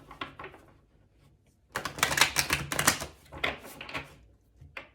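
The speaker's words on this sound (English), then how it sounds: "we'll shuffle one last time" A tarot card deck being shuffled by hand, a quiet rustle followed by a dense, loud burst of riffling cards lasting a couple of seconds, then a few softer flicks and taps.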